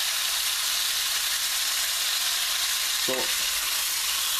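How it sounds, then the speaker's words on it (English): Flat iron steak sears in a very hot pan over a high flame, giving a loud, continuous close-up sizzle and crackle that fills the whole stretch, with a brief murmured word partway through. "We're going to brown both sides well."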